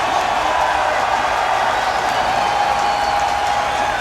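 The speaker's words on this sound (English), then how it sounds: "The crowd is on their feet." A large crowd at a men's street skateboarding final in Chicago, on its feet and roaring, a loud, continuous wash of cheering and applause with no break.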